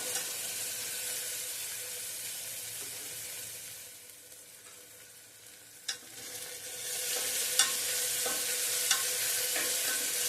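Tomatoes sauté in a pan until soft, giving a steady, fairly quiet sizzle with a few sharp clicks of a spoon against the pan.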